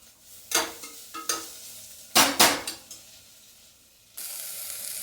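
Chicken goes into a pressure cooker for pulao and is stirred, with several sharp scraping and clattering bursts of a spoon against the pot, then a steady sizzle rising afterward.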